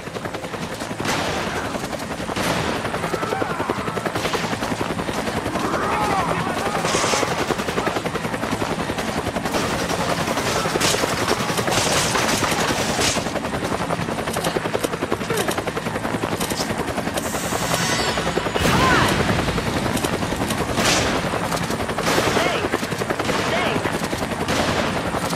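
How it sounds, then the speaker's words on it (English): Helicopter in the video game Resident Evil 5: a steady rotor roar persists throughout, mixed with ongoing machine-gun fire and other shots from a team survivors match, while game voices speak over it. "Chopper headed to your position."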